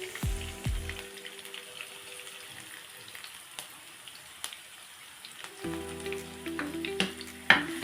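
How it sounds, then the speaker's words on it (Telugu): Chopped onions and green chillies frying in hot oil for a chicken fry curry, a faint steady crackle with a few louder spoon or pan knocks at the start and near the end. "ఉల్లిగడ్డలు పచ్చిమిర్చి బాగా వేగాలండి, బ్రౌన్ కలర్లోకి రావాలి"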